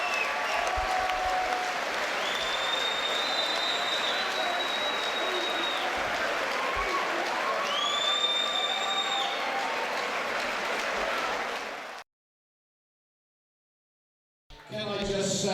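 A boxing crowd applauds and cheers loudly at the end of a fight, a dense, sustained roar with whistles rising above it for about twelve seconds before cutting off into silence.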